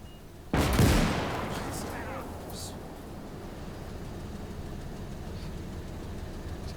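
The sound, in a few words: gunfire from video game Gates of Hell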